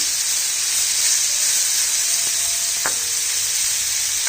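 Mushrooms frying in butter in a pan give a steady, close sizzle and hiss throughout, with a couple of faint clicks near the end and no voices.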